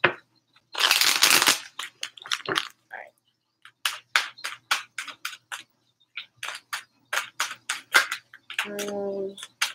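Tarot deck being shuffled by hand, a burst of riffling followed by a long run of quick, crisp card taps and slaps, near and moderately loud, with brief bits of other handling noise.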